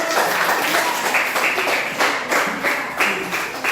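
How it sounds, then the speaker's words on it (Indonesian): A group of students in a classroom applauds together, a dense, steady wash of close hand claps with a slight pulsing rhythm throughout. "Ya, tepuk tangan kelompok."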